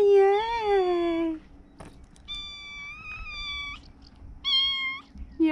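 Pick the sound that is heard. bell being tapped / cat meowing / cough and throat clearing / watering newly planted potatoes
cat meowing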